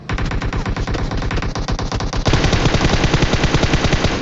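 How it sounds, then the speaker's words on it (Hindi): Automatic gunfire in PUBG, the battle royale game, sounds as a loud, close, unbroken stream of rapid shots that grows denser and heavier partway through. "अब ये फायर कर रहा था"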